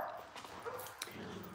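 Dog barking at another dog in a nearby yard, sounding faint and distant, with a few short yips over a quiet indoor background.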